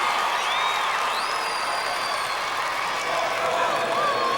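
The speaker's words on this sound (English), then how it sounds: "You can hear the cheer from the Mendon crowd" At a 1991 Class DD high school football final, the Mendon crowd cheers as their team comes onto the field. The roar is steady and distant, with whistles and shouts rising above it, and there is no speech over it.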